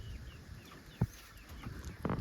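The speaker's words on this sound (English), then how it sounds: "you can see my other chickens down here underneath the fence" Backyard chickens by a coop fence give a few soft, scattered clucks, one brief louder call near the middle and another toward the end, faint and distant over steady outdoor background noise with no talking.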